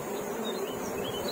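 Honey bees at an open hive in an apiary, a steady, dense buzzing hum from many bees close by, continuous and unbroken throughout.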